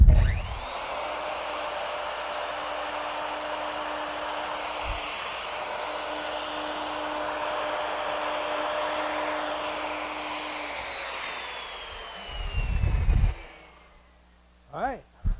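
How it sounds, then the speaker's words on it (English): Router fitted with a 1/2 inch straight plunge bit and 5/8 collar cutting a clock inlay, a loud steady high whine held for about twelve seconds, then spinning down with a few knocks and brief handling noise. "Now I've got my 5/8 collar with my 1/2 inch plunge bit in there, straight cutter, and that's all set to the depth already."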